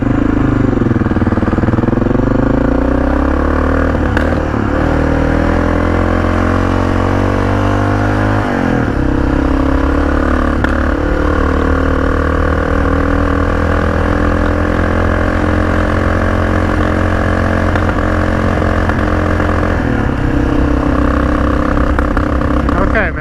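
A Honda XR650L motorcycle with a carburetor problem and possible water in the gas runs loudly close by, its engine rising and falling through several revs while someone talks over it.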